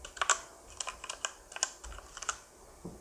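Someone types lightly on a CosmicByte FireFly keyboard with Outemu Red switches. The keystrokes are close and clicky and come in quick, irregular bursts, some with brief gaps between them. No one speaks.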